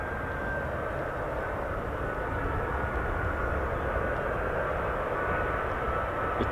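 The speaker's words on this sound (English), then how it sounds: "It's definitely an aircraft on my right, unless that's just bouncing the sound." Steady, loud aircraft engine drone at a US Air Force air base where C-17, KC-135 and CV-22 transports fly circuits, a continuous broad roar with no talk over it.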